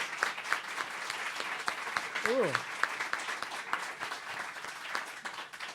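Warm audience applause welcoming author Janet Malcolm at a reading at Penn's Writers House, a sustained patter of many hands with brief voices and an exclamation over it.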